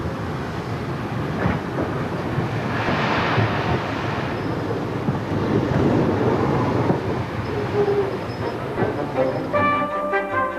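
The steam locomotive City of Truro, built in 1903 at the Swindon works for the Great Western Railway, gives a steady loud rumble of rolling train noise. Rhythmic clicking comes in near the end.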